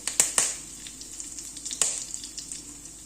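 Curry leaves and cumin seeds crackle and sizzle in hot oil for a cabbage stir-fry, with a few sharp popping bursts over a steady close frying hiss and no talking.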